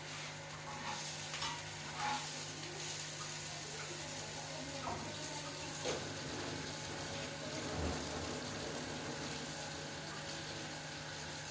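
An egg frying in a covered pan, with a soft, muffled sizzle and occasional faint clatter running steadily at low level throughout.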